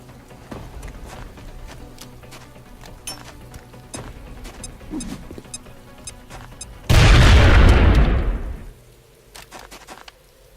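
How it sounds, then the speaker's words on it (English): A grenade blast in XCOM: Enemy Within lands as one loud, sudden boom that rumbles and fades over about two seconds, set against quieter game ambience. "Now toss your grenade at the enemy in front of you."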